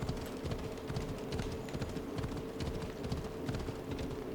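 Horse hooves clatter over rough ground in Assassin's Creed Odyssey, a quick, steady, close clip-clop rhythm of galloping that runs the whole time at low volume.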